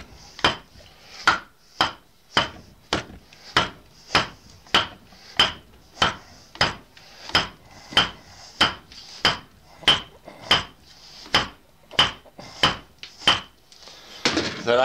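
Sharp wooden knocks of a wooden baton pounding a handmade froe through a big hunk of wood, in a steady rhythm, roughly one every three quarters of a second, each crisp and close with a short ring.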